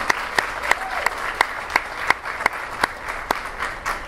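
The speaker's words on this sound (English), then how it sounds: "if we could give them a round of applause for all the work that they've done" Audience applause at a fall capstone celebration for student workers, a steady wash of many hands clapping with sharp individual claps standing out at an even pace throughout.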